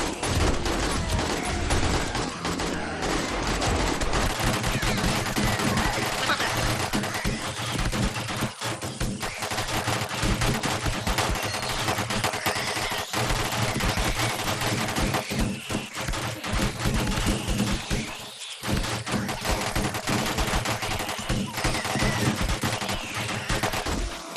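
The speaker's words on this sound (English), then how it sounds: "I still hear shoddy turrets firing" Shoddy turrets in the video game 7 Days to Die fire continuously, a loud, dense rattle of automatic shots with brief gaps, layered over a droning hum.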